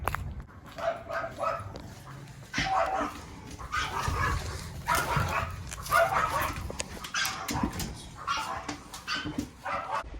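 A dog barks repeatedly in irregular bursts outside a home during a busy Black Friday delivery, with yips and whimpers mixed in over faint background noise.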